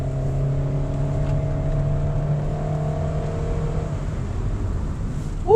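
A 2024 Honda Brio engine hums steadily from inside the cabin during a spirited test drive, a low even drone with faint tonal whine, fairly subdued, ending with a brief louder squeak.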